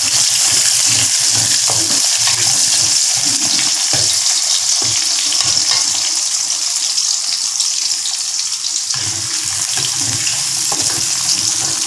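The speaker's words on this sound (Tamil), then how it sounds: "இப்போ கொஞ்சம் கருவேப்பிலை போட்டுறேன், பூண்டு போடுறேன், வெங்காயத்தை போடுறேன்" Curry leaves, garlic and onion fry in a pan for eggplant in tamarind sauce, giving a loud, continuous close sizzle and crackle with occasional stirring scrapes throughout.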